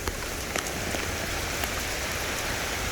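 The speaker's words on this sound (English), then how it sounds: "Well guys, it is pouring rain." Heavy rain pours steadily, a dense continuous hiss of drops drumming on a surface, loud and close with no letup.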